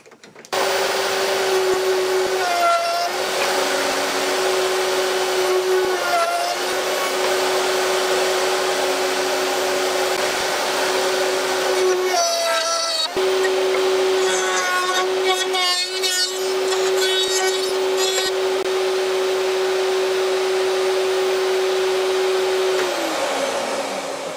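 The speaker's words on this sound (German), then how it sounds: "Und das werde ich jetzt Stück für Stück immer hier durchgehend reinfräsen" Electric router fitted with a 6 mm bit milling a groove in wood whines loudly and steadily at close range, with several short bursts of rough cutting noise as the bit bites into the workpiece.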